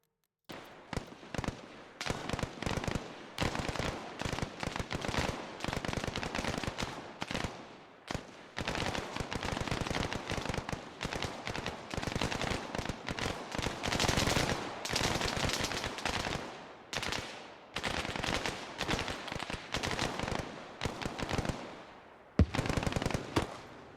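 Sustained gunfire in the ARMA military shooter, dense rapid bursts of shots and machine-gun fire running almost continuously with only brief gaps, mid-distance and fairly loud, with no talk.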